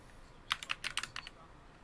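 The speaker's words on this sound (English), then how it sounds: "I got this mini keyboard, which I quite like, from Epoch Maker" Quick clicky keystrokes on a mini computer keyboard from Epoch Maker, about eight close taps in a short burst over a quiet background.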